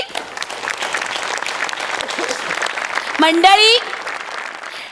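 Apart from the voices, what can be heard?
audience applause for Sameer Choughule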